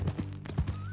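Horse hooves clip-clopping in Red Dead Redemption 2 at an unhurried gait, several close, distinct hoof strikes in an uneven rhythm.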